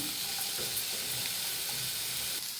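Bitter gourd frying in a pan for a tamarind curry, giving a steady, even sizzle with faint stirring scrapes. It runs alone with no voices.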